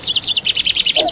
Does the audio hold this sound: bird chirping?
yes